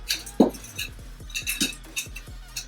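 Bar spoon stirring a Johnnie Walker White Walker cocktail, with close, crisp clinks and rattles of metal and ice against glass in an uneven rhythm, a few sharper knocks standing out.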